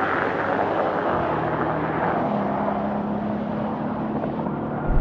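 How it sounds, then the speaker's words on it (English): Mercedes-AMG G63, older model, at about 120 during a drag race, giving a loud, steady roar of engine and wind noise that holds throughout with no talking. "This is really noisy when you're going quickly. It's definitely noisier than the new one."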